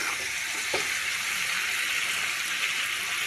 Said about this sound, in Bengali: তো দেখো আমার আলুটাও ভাজা হয়ে এসছে